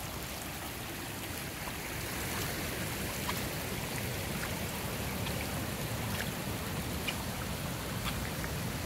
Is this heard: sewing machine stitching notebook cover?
no